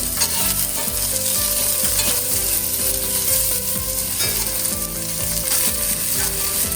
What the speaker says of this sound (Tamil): வெட்டி வச்சுருக்க வெங்காயத்தையும் சேர்த்து வெங்காயம் நல்லா வதங்கணும்